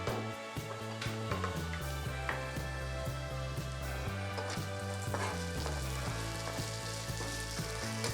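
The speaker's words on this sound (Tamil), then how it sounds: "இது வதங்கிடுச்சு, வெங்காயம் இதெல்லாமே வதங்கிடுச்சு." Chopped onions sautéing in a hot pan for bun dosa, a continuous close sizzle and crackle with occasional stirring scrapes, over a steady background of music, no talking.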